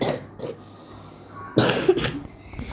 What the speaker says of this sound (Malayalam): ചുമയാണ്, അത് കാരണമാണ് ഇടയ്ക്കിടയ്ക്കൊക്കെ ചുമക്കുന്നത്